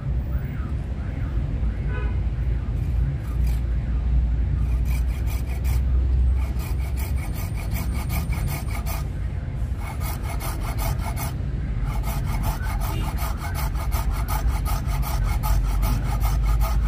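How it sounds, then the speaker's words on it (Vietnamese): Steady rasping strokes of a hand saw biting through a tree branch, close and continuous, with outdoor background noise throughout. "cưa ngang đây bỏ nè"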